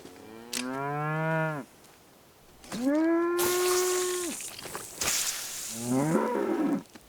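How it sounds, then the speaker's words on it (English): A cow moos three times in a rural ranch setting, each call long and drawn out with a gap between, loud and close, with no talk over it. "Hey, this cow looks kind of funny."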